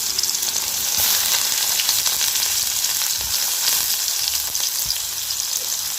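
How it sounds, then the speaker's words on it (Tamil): Onions fry with mustard seeds and urad dal in a pan for okra poriyal, a loud continuous hiss and crackle with occasional soft stirring bumps, heard up close with no voices. "இப்போ இதை நல்லா வதக்கிக்கலாம்"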